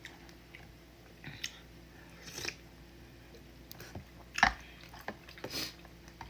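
Someone eats Nongshim udon noodles with soft, sporadic, close-up chewing and occasional wet bites and slurp-like clicks over a quiet background.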